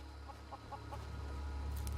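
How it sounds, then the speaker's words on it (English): Chickens at Half Moon Mill in the video game Skyrim, giving a few soft rhythmic clucks over a steady low ambient hum, fairly quiet and with no talking. "we have the Half Moon Mill, which has chickens"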